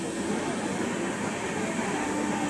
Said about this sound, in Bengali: ট্রেনের স্পিডটা একটু বসে বসে দেখি তাই বসে বসে দেখছিলাম কখন ট্রেনটা খুব জোরে যাচ্ছে কখন আস্তে আস্তে যাচ্ছে